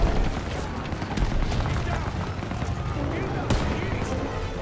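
Bursts of MG42 machine gun fire from a nest in a Call of Duty WW2 battle crackle alongside other gunshots and booms, mixed with a voice talking over the din.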